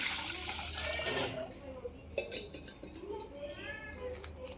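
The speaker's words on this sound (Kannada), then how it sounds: "ಇವಾಗ ಪಾತ್ರೆಗೆ ನೀರು ಹಾಕ್ಕೊಂತೀನಿ." Water pours and splashes into a metal pot, followed by clinks of utensils and dishes against the vessel.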